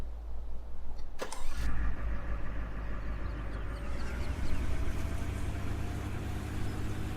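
Truck engine in Farming Simulator 17 cranks with a sharp click and catches, revving up loudly then settling into a steady mid-pitched running rumble, close and alone without speech.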